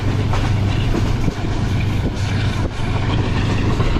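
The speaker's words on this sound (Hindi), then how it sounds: "मनक्याला से निकलने के बाद ट्रेन की कुछ इस तरह की स्पीड है" Inside the Green Line Express running at speed just past Mankiala, a loud, continuous low rumble fills the carriage, with faint rhythmic rail clatter underneath and no voices.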